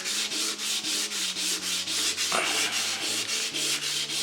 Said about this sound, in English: I'm actually going to sand it out.